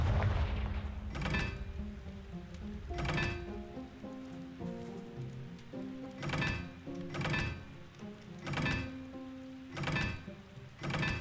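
Confringo fire spell cast repeatedly in Hogwarts Legacy, heard as a series of loud explosive booms about every one to two seconds, set over steady game ambience and a sustained musical score.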